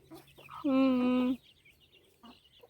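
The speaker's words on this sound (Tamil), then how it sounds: "இந்த கோழிங்கெல்லாம் வெளியே வந்து" Backyard chickens, hens with chicks, clucking close by, with one loud drawn-out call in the middle and softer clucks around it.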